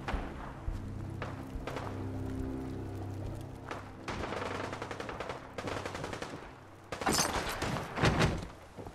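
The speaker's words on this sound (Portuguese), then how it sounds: "Quero ver onde é que é esse tiroteio." Gunfire in Fallout 4: scattered shots and thuds at first, then rapid bursts of automatic fire, moderately distant and growing louder toward the end.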